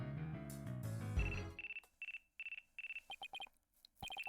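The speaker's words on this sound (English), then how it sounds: "Looks like I have a phone call." Phone ringing in the video game Phoenix Wright: Ace Attorney Dual Destinies, a repeated electronic ringtone in rhythmic bursts of short pulses, rising out of a brief musical phrase that fades away, clear and fairly quiet.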